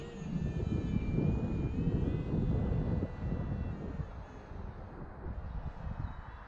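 An Aeroscout RC airplane on its maiden flight drones steadily overhead through a loop, a continuous engine hum with a whining tone that swells and eases slightly, with some wind buffeting and no talking.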